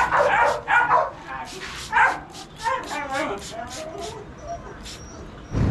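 Several dogs, including a pitbull shut in a cage, bark and yip in a run of close, loud barks with some whimpering, while people talk over them.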